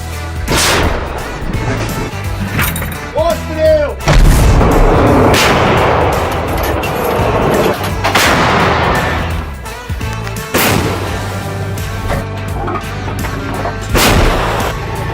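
Self-propelled artillery guns fire a series of loud, heavy booms at irregular intervals, each sharp blast followed by a rolling rumble that lingers before the next shot.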